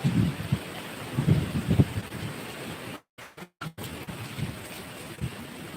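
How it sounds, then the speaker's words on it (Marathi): Steady rain hisses as a broad wash of noise, with low rumbling gusts and a few abrupt dropouts midway. "हा बघा पाऊस कसा पडतो आणि विजा वगैरे चमक आहे"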